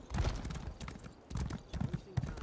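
A horse gallops in Elder Scrolls Online, with rapid, steady clip-clop hoofbeats close and fairly quiet, thudding in quick clusters throughout.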